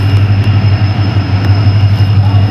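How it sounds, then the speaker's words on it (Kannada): A train passing nearby makes a loud, close, low rumbling drone with a steady heavy hum and faint rattling vibration running through the whole stretch, no voices heard. "ಬಂತು ನೋಡಿ ಈಗ ಟ್ರೈನ್."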